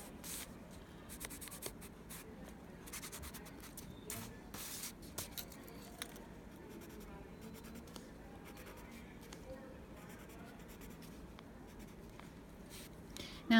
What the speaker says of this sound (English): I'm just going to erase parts to make this dashed.